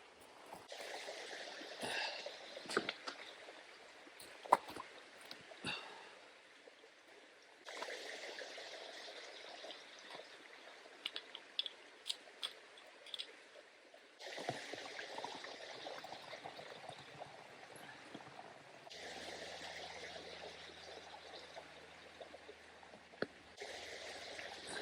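Water flows and trickles steadily along the Cleveland Way, a soft continuous rush in sections, faint and close, with occasional clicks and handling noises and a low hum toward the end.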